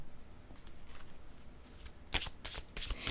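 Tarot cards being shuffled close by in a quiet room, the soft riffles coming in uneven bursts that grow louder and denser toward the end.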